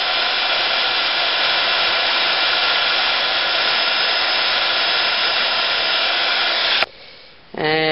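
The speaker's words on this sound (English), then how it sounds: "And then just emboss that with your heat gun." A heat gun melts embossing powder with a loud, steady blowing roar heard alone and up close. It switches off near the end, leaving a short fading whir.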